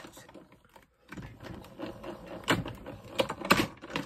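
A Spellbinder Platinum 6 die-cutting machine cranks a piece through, giving quiet mechanical clicks and rolling clunks with a couple of sharper knocks near the end, close up and without talk.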